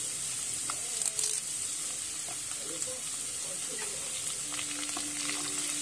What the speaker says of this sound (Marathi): लसूण भाजत आला की मग त्यात आपण कढीपत्ता घालून घेऊ।